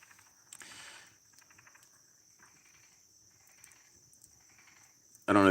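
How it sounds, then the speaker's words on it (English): Frogs calling at an outdoor camp, a steady chorus of rhythmic, insect-like trilling pulses in the distance, fairly faint and continuous, with a louder knock at the very end. "I don't know if you guys can hear the frogs"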